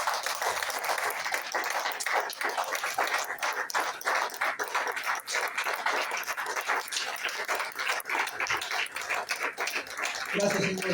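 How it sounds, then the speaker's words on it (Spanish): A church congregation claps and applauds steadily throughout, a dense, continuous patter of many hands filling the room. "¿Podemos darle un fuerte aplauso al Señor?"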